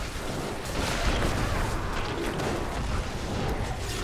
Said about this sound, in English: It's hard to tell with all the explosions going off around.